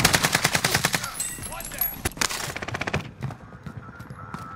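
Gunfire in the Warzone video game: rapid bursts of automatic shots crackling in quick succession, loud and close, tapering into scattered shots.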